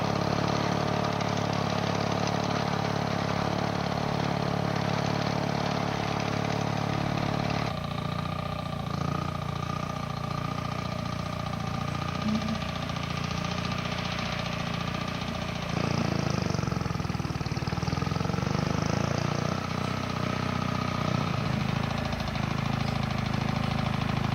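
A vintage Lamborghini or Porsche tractor engine runs steadily with a sustained low mechanical drone and a faint knocking texture, constant and fairly loud throughout, with no voices over it.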